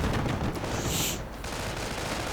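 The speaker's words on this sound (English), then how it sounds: "Rifleman getting blasted by auto cannon fire." Rapid gunfire and auto cannon fire in a WWII strategy game form a loud, dense fusillade of overlapping bursts that continues without pause, with no talk.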